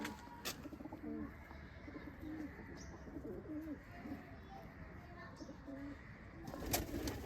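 Pigeons in a village loft in the Batala area give soft, low cooing calls under a constant background hum, with a few sharp knocks near the start and end.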